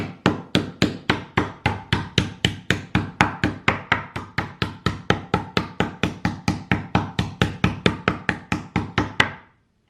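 Jagged side of a meat tenderizer pounds pork tenderloin in a fast, even run of about forty sharp, close thumps, each with a quick decay, stopping abruptly at the end.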